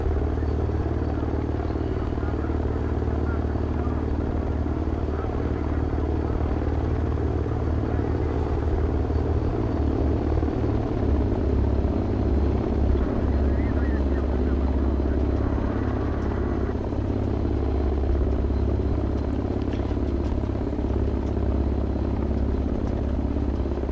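In the military shooter Project Reality, a helicopter's engine and rotor drone steadily at close range, a continuous low rumble and throb with faint clatter, heard without pause.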